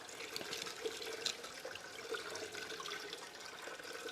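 Water runs steadily through gold paydirt tailings processing equipment driven by an adjustable-voltage pump, a faint continuous trickling and splashing with small drips and no talk.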